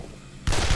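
A gunshot rings out in the horror video game Condemned: after a quiet, low stretch, a sudden loud, full blast hits and its roar carries on to the end.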